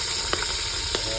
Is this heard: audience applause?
no